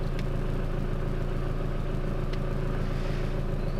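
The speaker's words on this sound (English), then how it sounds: "ignore that rattle. That's just my exhaust." A B5 Passat's loose exhaust rattles beneath a steady low engine drone while driving, with faint, irregular metallic buzzing and no voices.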